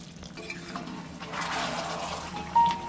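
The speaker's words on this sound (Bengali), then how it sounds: "মাংসগুলো একটু ঢেকে ভালো করে কষে নেব।" Fried chicken pieces being stirred and cooked down in oil-separated masala in a pan, a soft, steady sizzle and scraping that swells midway, with a brief louder clatter near the end.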